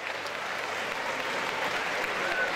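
Crowd applause fills an MMA fight venue at ICE FC 3 after a close bout, a steady dense wash of clapping and cheering that holds loud and even from start to finish.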